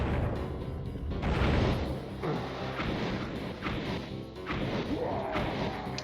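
Quietus sword attacks in Hexen land as repeated heavy crashing whacks, loud and dense, several impacts layered with game noise over about six seconds and no talk.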